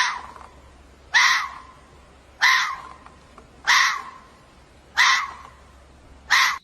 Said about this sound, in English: This is a red fox. This is how it sounds.